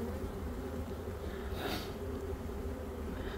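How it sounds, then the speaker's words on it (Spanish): Young honeybees hum steadily inside an open beehive during an inspection, a continuous close buzzing swarm with a brief louder swell of wings midway. "Mucha abeja joven."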